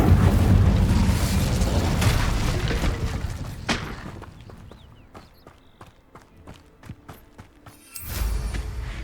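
A fire spell blast in Hogwarts Legacy lands as a loud, rumbling burst that decays over several seconds into scattered light thuds and clicks, followed by another sudden swell of sound near the end.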